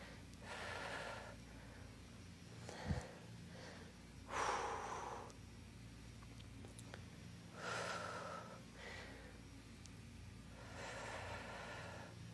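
Heavy, rhythmic breathing during a beginner workout exercise: several quiet, breathy puffs and gasps spaced about two seconds apart, faint and close, with no talking.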